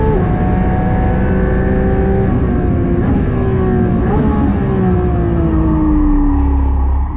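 A Porsche GT3 race car's engine drones loud and steady during a race, its pitch sliding gradually downward with small shifts, as a continuous close roar throughout.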